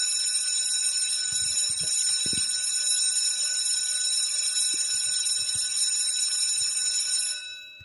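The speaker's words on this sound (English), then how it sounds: "when the school is over, the school bell rings" An electric school bell rings continuously in a steady, shrill metallic buzz for several seconds, then cuts off, with faint background noises.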